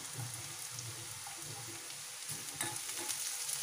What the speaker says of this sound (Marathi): एक 4-5 सेकंद आपल्याला त्या फ्राय करायच्या आहेत तेलामध्ये.